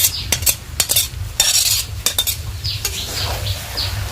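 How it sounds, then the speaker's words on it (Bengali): Fried carrots, beans and peas are stirred in a pan for khichri. A spoon scrapes and taps the pan in sharp, repeated strokes, with a soft sizzle underneath, heard close. "এগুলো দিয়ে আর একটু ভালো করে কষিয়ে নিব, মিক্স করে নিব।"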